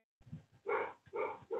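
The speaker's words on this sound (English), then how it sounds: "It's like every time the dog barks," A dog barks in three bursts, one after another, with a softer low rumble just before them, near and fairly loud with no talk over it.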